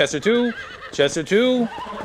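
A horse in the video game Red Dead Redemption whinnies twice in quick succession, each call rising and wavering before trailing off. Both calls are loud, close and clear.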